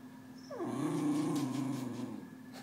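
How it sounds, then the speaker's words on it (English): A dog growls in a low, drawn-out rumble that starts with a whiny rising note and then holds steady at close range before easing off, with no talking. "Is that an angry growl?"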